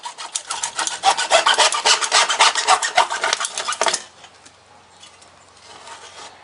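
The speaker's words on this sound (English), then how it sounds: "a good hacksaw cuts right through it" A hacksaw cuts through thin-walled PVC drainage pipe in about a dozen quick, rhythmic rasping strokes, close and loud, then the sawing stops and only faint background noise remains.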